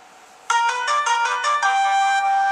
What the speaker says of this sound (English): And it'll have an incoming call from Alex Pardo.